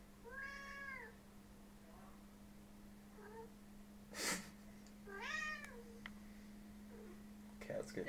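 A cat meows twice, each a drawn-out, wavering call, heard close over a steady low electrical hum with a few soft knocks and clicks in between.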